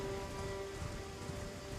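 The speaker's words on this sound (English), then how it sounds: "It's probably because it's raining outside. You might hear the rain as well." Rain falling outdoors, a steady soft patter of drops on surfaces heard as a continuous hiss, moderately faint, with a faint tone humming in the background.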